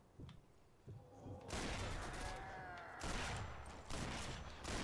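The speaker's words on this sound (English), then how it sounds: "Stop shooting at me" Gunfire in the World War II shooter Sniper Elite 4 during co-op multiplayer, with dense, sustained bursts of shots and booms mixed with heavy noise, moderately loud with quieter gaps between volleys.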